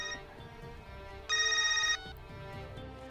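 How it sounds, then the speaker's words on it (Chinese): A telephone rings with a short burst of bright electronic trilling, clear and close, over a quiet indoor room tone, then stops abruptly. "我接个电话。"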